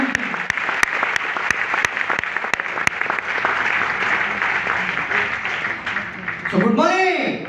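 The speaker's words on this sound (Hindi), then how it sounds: "DXN महिला शक्ति के लिए तालियां होनी चाहिए और जबरदस्त तालियां होनी चाहिए।" Audience applause at a women's gathering for the DXN company, starting with a few sharp, distinct claps that swell into a sustained crowd ovation, followed by a voice speaking over the hall near the end.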